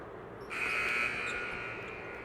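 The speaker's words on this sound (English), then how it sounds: "Buzzer sounds, so wait to get the free throw." Arena buzzer at an international men's basketball game between Ecuador and Brazil, a single loud, sustained electronic blare lasting nearly two seconds over crowd ambience.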